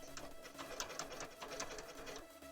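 A sewing machine slowly stitches through thick pleated fabric, sewing cosplay arm decor, a quiet, fairly steady pattern of short mechanical stitch beats with no talking.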